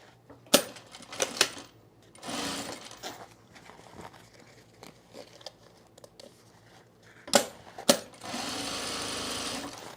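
A sewing machine runs a short small seam, quiet and close, amid scattered clicks, taps and fabric handling, with a steady stretch of stitching near the end.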